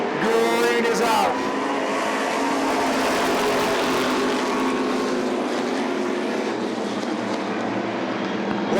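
Stock race cars roaring side by side down the backstretch at Oxford Plains Speedway during TD Banknorth 250 qualifying, a loud continuous engine drone with a passing whine near the start, while a commentator talks over it.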